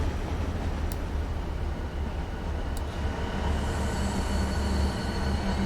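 A high-speed HST train pulls away in the game Transport Fever 2, giving a steady low rumble of rolling wagons and rails that holds evenly throughout, with faint brief clicks and no talk.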